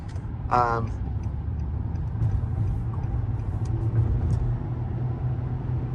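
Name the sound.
2007 Nissan Altima Hybrid car driving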